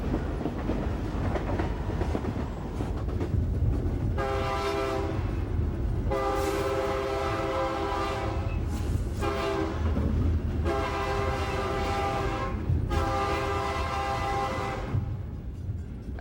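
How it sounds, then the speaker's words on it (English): A heavy BNSF freight train labors up a steep grade on the Cuba Sub in the Ozarks, its engine droning steadily near the cab with several long horn blasts sounding in a repeated pattern over the continuous rumble. "The steep grade has seriously slowed the heavy train's progress into Rollin"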